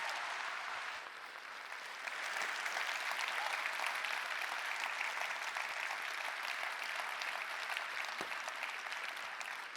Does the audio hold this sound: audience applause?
yes